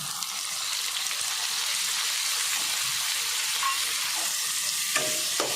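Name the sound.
garlic and tomato added to hot pan, frying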